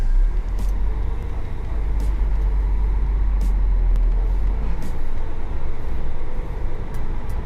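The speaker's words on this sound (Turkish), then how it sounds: "Arkadan da arabalar geçiyor yani" Cars pass behind a semi-truck as it backs up at a narrow factory entrance, heard over the truck's steady, loud, close low engine rumble, with a few brief sharp hissing bursts and no talking.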